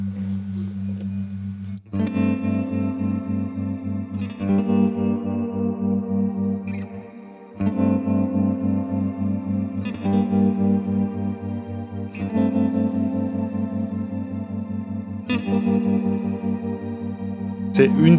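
Electric guitar strumming sustained block chords through a tremolo effect with reverb, the pulsing chords restruck every few seconds in a steady ambient wash, with no talking over them.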